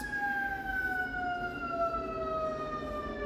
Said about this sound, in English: and we have an ambulance.